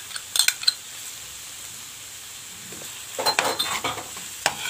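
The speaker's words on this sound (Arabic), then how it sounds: "هنزل بقى بالسجق بتاعي كده" Sausage with a spoonful of tomato sauce cooks in a pan over a soft, faint sizzle, broken by two short bursts of spoon scraping and clinking against the pan as it is stirred.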